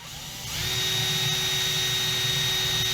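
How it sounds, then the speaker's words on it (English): A power drill bores a hole into a breadboard station for building guitar effects pedals, spinning up about half a second in and then holding a loud, steady, close whine with no talking. "somewhere around here, we need to drill a hole"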